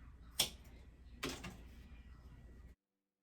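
Scissors cut through faux locs hair extensions in two crisp, close snips about a second apart, set against a quiet room hum.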